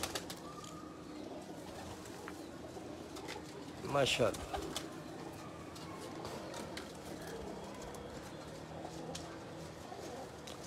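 Pigeons in a breeder's loft coo softly and steadily at a moderate distance, with a brief louder flutter or call near the middle, while someone speaks over the birds.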